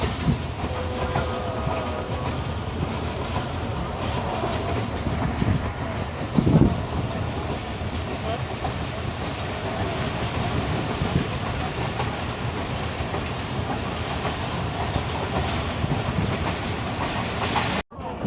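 A train runs steadily on rails approaching Kasur city station in Punjab, a continuous rumbling roll with faint clatter and one brief louder knock partway through, no talk.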